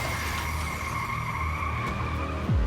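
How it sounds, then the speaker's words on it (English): A white sedan at high speed skids on a highway on-ramp, a loud continuous tire squeal over roaring engine noise, ending with a sudden downward sweep and heavier burst as it slams into a box truck. "a white sedan traveling at a high speed overshoots the on-ramp, barreling straight into a box truck"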